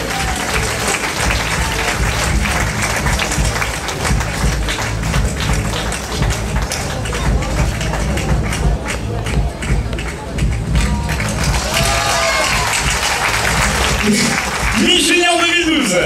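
An audience at the Miss Cazères 2012 pageant final applauds steadily and loudly throughout, with dense continuous clapping and crowd noise, voices heard over it near the end.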